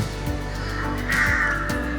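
Crows cawing in a Bangkok park, several loud, harsh caws close by over a steady outdoor background.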